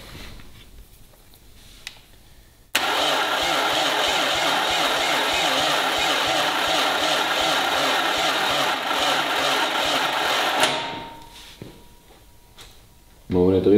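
An Audi RS4 2.0 saloon engine cranks and tries to start, a loud sustained mechanical roar lasting about eight seconds after a quiet start, then cutting off and fading into faint background sounds.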